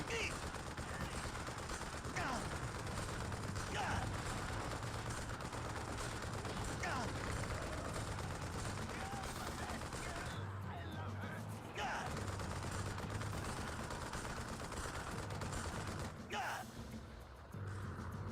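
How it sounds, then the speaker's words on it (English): Enemy gunfire in the Xbox game Armed and Dangerous, a steady dense crackle of automatic shots running through most of the stretch under a continuous battle din, briefly thinning near the end. "they're shooting at me from down here too?"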